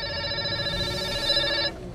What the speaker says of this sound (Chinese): 电话铃声不断